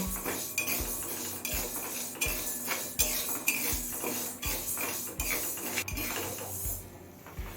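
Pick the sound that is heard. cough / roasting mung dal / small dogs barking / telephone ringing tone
roasting mung dal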